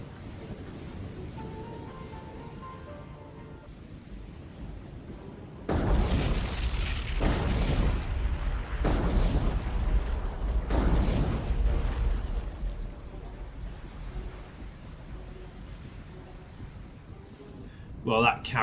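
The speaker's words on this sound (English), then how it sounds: "I think that first torpedo penetrated straight through to the magazine" An aircraft carrier's magazine detonates after a torpedo hit in a naval war video game: a series of heavy, rumbling explosion bursts rolls in loud and near, followed by a fading low rumble and a sharp final blast.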